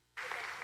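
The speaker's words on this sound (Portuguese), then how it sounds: "Uma salva de palmas para esse rapaz e para essa jovem aqui" Brief applause in a church for a young man and woman, a dense wash of clapping from a congregation that begins abruptly and holds steady.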